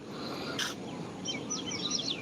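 A pet lovebird named Mango chirps in short high tweets, faint to moderate and somewhat distant, with one sharp click-like burst early on, over a steady room hiss and no talk.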